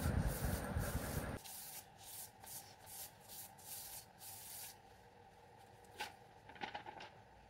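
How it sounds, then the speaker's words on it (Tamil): Paper towel wiping excess oil off homemade parchment paper, a soft loud rubbing burst at the start followed by quieter, repeated swishing strokes and a few light crinkles near the end. "பேப்பரில் இருக்க எக்ஸஸ் ஆயிலை நல்லா தொடச்சி எடுத்துக்கலாம்"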